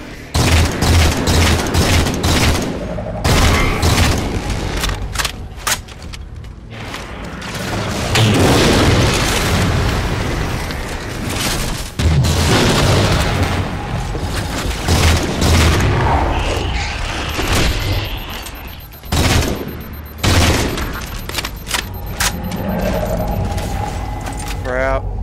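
Gunfire and explosions from the video game Halo 4: rapid bursts of shots and heavy booms hit throughout, loud and dense, while a player talks over the action.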